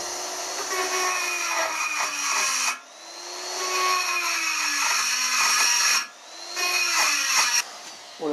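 A die grinder cuts a slot into metal during an electric scooter repair, a steady high-pitched whine with grinding grit that dips briefly twice as the tool eases off, then resumes.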